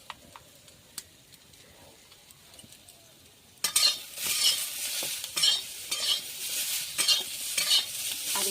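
Turmeric and salt being stirred around a frying pan with very little oil: after a few seconds of near silence, a steady sizzle starts up, broken by repeated scrapes and clinks of the spoon against the pan.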